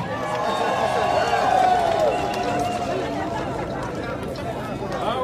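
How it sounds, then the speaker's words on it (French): A crowd applauds women at a gathering in Côte d'Ivoire, with dense, steady clapping and cheering that holds for several seconds while voices carry through it. "Applaudissez pour vous les femmes."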